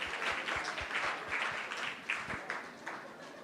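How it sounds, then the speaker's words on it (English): A dinner crowd at an evening birthday event applauds the cooks, a steady wash of many hands clapping at moderate volume with no talk over it. "Can we give a round of applause for those that cooked it?"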